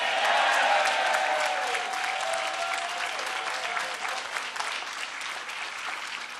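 A large rally crowd applauds, a broad, steady roar of clapping that starts strong and slowly fades over six seconds, with a faint tone lingering underneath early on.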